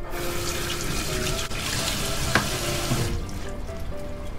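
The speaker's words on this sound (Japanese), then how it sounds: "野菜を洗います。" Vegetables are washed under a running kitchen tap, water splashing steadily into a sink at close range with small knocks and handling sounds, fading near the end.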